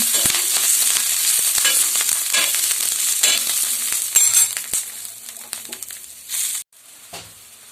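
Green chillies fry in a little oil on a tawa, a loud continuous sizzle and crackle with scattered pops and scraping stirs, easing off near the end.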